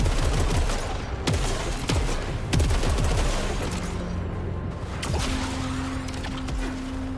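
Pistol gunfire in the video game SAROS: repeated sharp shots spaced across the stretch, loud and close over a dense, busy game soundscape, with no talking.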